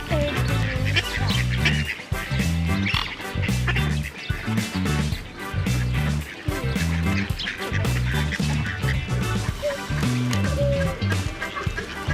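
Ducks on a farm quack loudly in a busy, overlapping stream of calls, with what may be geese honking among them, and a steady rhythmic backing running underneath.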